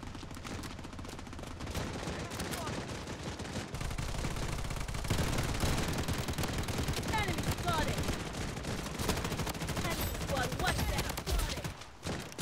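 Sustained automatic gunfire from a bandit weapon in the shooter game Blood Strike, loud rapid bursts running almost without pause for around twelve seconds.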